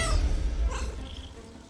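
A short cat meow in the Baldur's Gate 3 video game, fairly close, heard over a rumbling low background.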